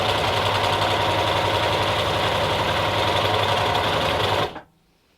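An overlocker serger sewing machine runs at a steady fast whir, forming a thread chain, with a dense rhythmic mechanical hum that stops abruptly near the end, leaving near silence.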